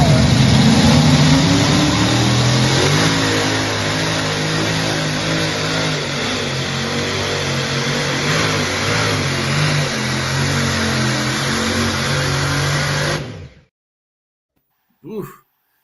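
Pulling tractor engine at a west coast tractor pull, a loud sustained roar with rising pitch at the start, running steadily for about thirteen seconds before cutting off abruptly, followed by a brief faint noise.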